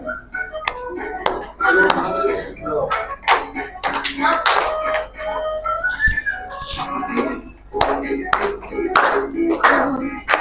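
Schoolchildren clap in short bursts during a classroom counting game, the sharp claps scattered between a teacher's and pupils' voices.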